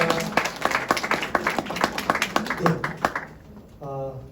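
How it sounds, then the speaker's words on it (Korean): Applause from the audience at a talk concert, with several sharp claps rising over an indoor crowd murmur. Brief speech can be heard partway through, and the clapping fades out near the end. "박수 한번 부탁드립니다"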